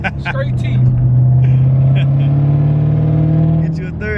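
A car pulls hard in third gear, its engine droning loudly up close in one long rising pull while a person talks over it.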